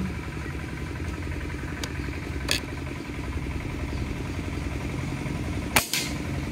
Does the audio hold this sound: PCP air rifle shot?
yes